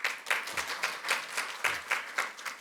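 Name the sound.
audience applause welcoming a guest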